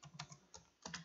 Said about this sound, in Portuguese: Pode digitar assim direto na calculadora.